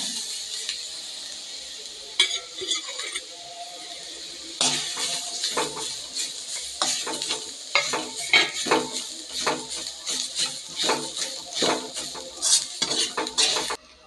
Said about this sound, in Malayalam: ഇനി ഞാൻ തേങ്ങ വറുത്തെടുക്കാൻ പോവാണേ